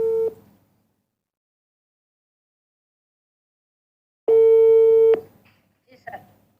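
Phone busy tone after a dropped call, two short steady beeps, one at the start and a longer one later, with silence between and a faint voice-like blip after the second.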